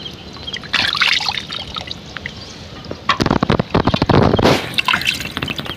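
Water splashes and trickles as tilapia fish are rinsed clean by hand, with uneven bursts of pouring and dripping, close and fairly loud, quieter in between and with no talking.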